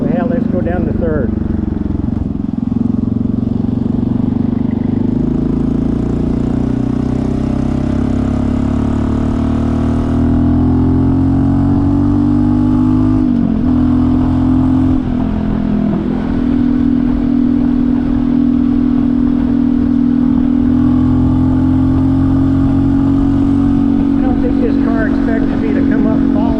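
Honda CT125 motorcycle engine drops down to third gear on a road ride, a steady loud drone with a pitch shift partway through, speech heard over it.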